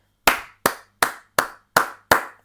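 Six sharp, evenly spaced hand claps, close and distinct, each with a short room decay, in an otherwise quiet space.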